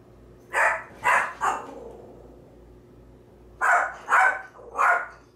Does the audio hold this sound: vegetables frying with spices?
no